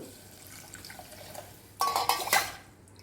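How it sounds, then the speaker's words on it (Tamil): Water splashes and pours into a metal pot for cooking dal rice for about a second, following a quiet stretch with faint clinks. "இப்போ அதுக்கு தேவையான அளவு தண்ணி ஊற்றுவோம்"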